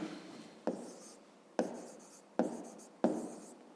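A pen writes out the answer to a fifth-grade math exercise by hand: four quick scratchy strokes, each starting sharply and fading, spaced evenly and heard close and quiet with no talking.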